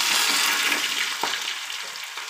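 Dhokla pieces tipped into hot oil already tempered with cumin, mustard seeds and green chillies, giving a steady, loud broadband sizzle with a brief clatter as they land.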